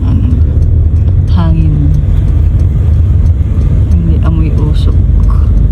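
Street traffic rolls through a busy Tel Aviv street, a constant low engine rumble of passing cars with people talking close over it.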